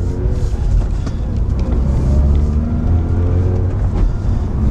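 A Mazda RX-8 with a 1.3-litre rotary engine, warmed up, pulls away from a stop with a loud, steady low engine rumble that holds close and continuous throughout, no voices over it.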